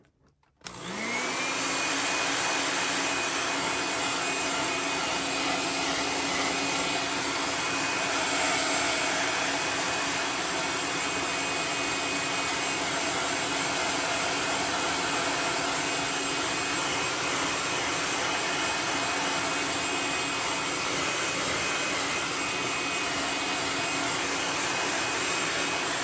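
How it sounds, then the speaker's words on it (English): A heat gun heat-setting paint on a fishing lure, a loud, steady blowing whine with a high tone that clicks on and runs unbroken for about twenty-five seconds, with no talk. "I'm going to heat set this really fast."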